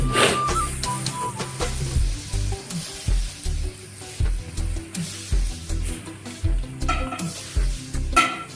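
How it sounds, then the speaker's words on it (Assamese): Grated coconut sizzles and fries in a pan, with a steady hiss under rhythmic scraping and stirring strokes that repeat about once a second, close and clear with no voices. "নাৰিকলটো বাজিছে তাই ফ্ৰাই কৰিছে"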